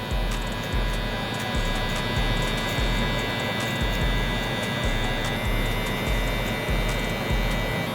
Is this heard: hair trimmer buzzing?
yes